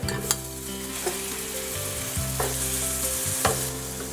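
Onion and tomato frying in a single pot over medium heat, a steady sizzle with a few sharp clinks and stirring scrapes, close and continuous with no talking.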